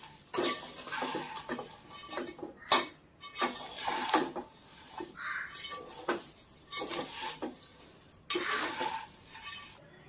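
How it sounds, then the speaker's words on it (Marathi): Fried poha and chivda ingredients being stirred in a pan, with irregular scraping, clinks and knocks of a spoon against metal coming in bursts separated by short pauses, close and fairly quiet. "सर्व साहित्य ओतायचं आहे यामध्ये लगेच हलवायचं आहे"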